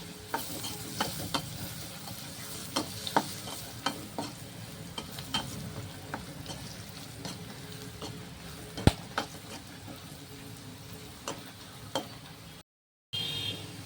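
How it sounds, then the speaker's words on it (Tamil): Garlic cloves and dried red chillies fry in a pan with steady low sizzling, broken by repeated sharp clicks of a spoon stirring against the metal; no voices. "பூண்டு நல்லா வதங்கிட்டு"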